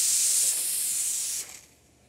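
A Rocket Boxer two-group commercial espresso machine with a 13.2-liter boiler blasts a loud, steady steam hiss from its wand, easing slightly midway and then dropping off sharply near the end.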